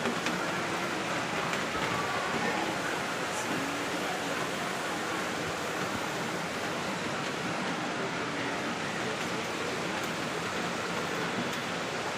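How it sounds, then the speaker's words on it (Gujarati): Heavy rain pours steadily at a house, a dense, unbroken hiss of water lasting throughout at even loudness, with no voices standing out. "ઉલકોર વરસાદ આવી પલળી ગયા કપડાં"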